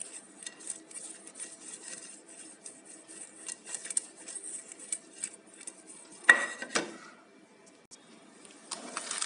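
A metal cake mold being greased with oil: scattered light scrapes and rubbing against the tin, with one sharper clink partway through, close and fairly quiet, with no talking.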